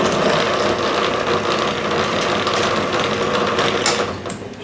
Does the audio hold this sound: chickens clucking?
no